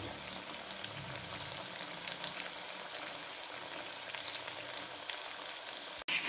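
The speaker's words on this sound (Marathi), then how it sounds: "आता फ्राय करायचे, फ्रायला टाकले।" Cut pieces of moong bhaji batter frying in a pan of hot oil, a steady close sizzle with fine crackling throughout and a brief clatter right at the end.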